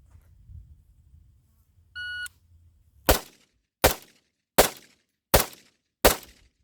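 A DT15 AR-15 rifle fires five sharp, loud shots at targets at an even, deliberate pace. A short electronic beep comes first, and the shots sound close against quiet surroundings.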